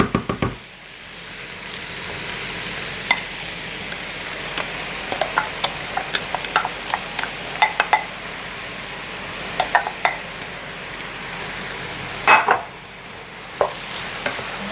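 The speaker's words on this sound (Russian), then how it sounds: "Я думаю, что уже пора добавлять сюда лук." Onions sizzling in a pan with mushrooms for a mushroom soup, a steady soft frying hiss broken by scattered clicks and knocks of a utensil stirring against the pan.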